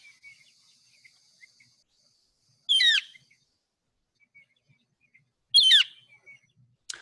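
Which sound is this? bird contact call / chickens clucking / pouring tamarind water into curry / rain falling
bird contact call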